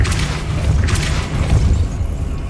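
A deep, rumbling magical blast from the Depulso spell in Hogwarts Legacy, a dense low boom that swells and holds steadily for a couple of seconds without any voices.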